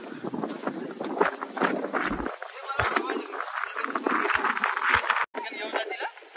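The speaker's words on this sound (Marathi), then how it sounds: "इकडे वारा भरपूर सुटलेला आहे" Strong wind buffeting the microphone on the climb up Dhodap fort in Maharashtra, a continuous loud rushing roar that stays steady throughout, with someone talking over it.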